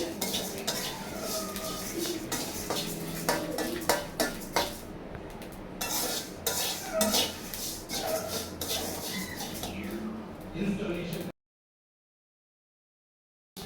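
Panch phoron spices roasting on low heat while a metal spoon scrapes and clinks against the pan in irregular strokes, with a soft sizzle underneath. The sound cuts off abruptly near the end.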